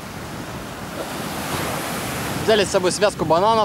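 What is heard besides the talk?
ocean waves and surf breaking on the shore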